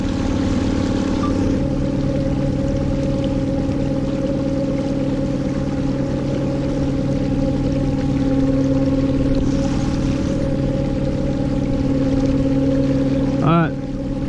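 A prototype electric motor runs on a Bluesky Boatworks 360 Angler kayak on saltwater, giving a continuous steady hum and whir with water wash, close and unbroken throughout.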